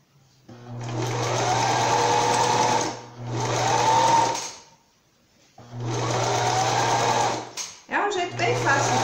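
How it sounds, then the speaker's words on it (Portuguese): A sewing machine runs in bursts while stitching a seam on a summer pet dress, three loud whirring runs separated by short pauses, with someone talking around them. "a gente passa uma costura aqui, ó, nessa curvadinha do lado direito para mim virar do lado do avesso."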